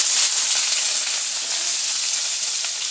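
Onions frying in hot oil for a mutton kurma kara paniyaram batter: a loud, steady, bright sizzle that stays even throughout, close up and alone, with no voices.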